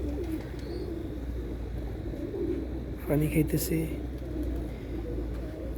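Pigeons coo softly in a hot outdoor street spot where they feed and drink from water poured on the road, a brief low cooing burst midway while someone talks over steady background hum.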